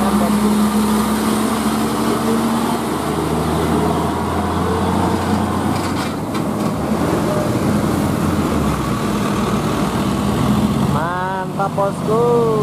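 A Hino trailer truck loaded with cement labours up a hill at full throttle, its engine a steady, loud, droning roar throughout, with someone talking over it.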